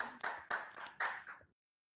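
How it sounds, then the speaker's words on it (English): A few sparse hand claps at a virtual magazine gallery launch, four or five distinct claps, faint and close, ending abruptly in silence. "So I hear some applause."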